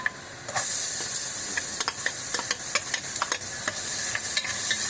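Onions sauté in a pan for paneer butter masala, giving a continuous close sizzle with repeated spatula scrapes and clicks against the pan, no voices.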